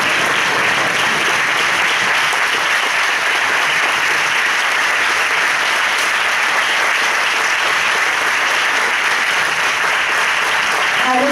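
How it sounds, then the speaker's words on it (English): A banquet audience applauds in a dense, steady burst of clapping that fills the room, loud and continuous for the whole stretch, with no voices standing out. "we'd like to give them a round of applause"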